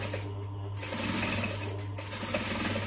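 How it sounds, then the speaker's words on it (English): A sewing machine stitching close to the edge of a bag, running as a steady, near, continuous motor whir with a fast even needle rhythm and no talking. "So I'm just stitching nice and close to that edge"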